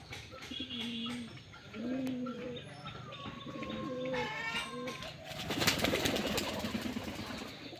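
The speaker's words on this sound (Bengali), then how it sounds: "দেখেন কিভাবে এরা গোসল করতেছে কবুতরগুলো।" Pigeons bathe in water on a sunny winter morning, with soft cooing and chirps followed by a brief burst of splashing and fluttering wings near the end.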